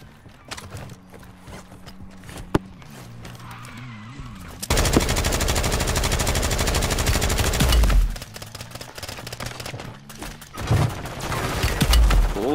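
An AK rifle fires in a video game, a dense burst of rapid automatic gunfire lasting several seconds, followed by scattered shorter bursts among other game sounds.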